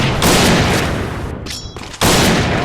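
Barrett M82A1 sniper rifle fire in a video game, loud dense bursts of gunshots filling most of the clip with a brief lull before another heavy blast.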